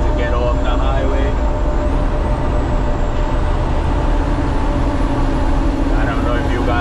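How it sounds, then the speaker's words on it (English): Inside a dump truck cab with the jake brake on while leaving the highway, a thin, high turbo whistle rises and holds over a constant, heavy engine and road rumble. "I don't know if you guys can hear that turbo whistling."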